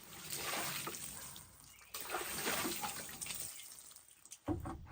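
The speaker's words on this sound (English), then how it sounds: "Let's pour some water on these beautiful boards here" Water is poured onto two-inch cherry wood boards, a steady broadband splash and trickle running close and fairly loud with a brief pause near the two-second mark, then tapering off at the end.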